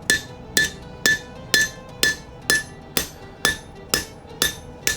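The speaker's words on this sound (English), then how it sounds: "You're gonna wanna lay it flat against your anvil, and there is space underneath. We're just gonna tap up here." A hammer taps a Scottish dirk blade laid flat on an anvil, eleven evenly spaced bright metallic strikes about half a second apart, close and loud with no talk.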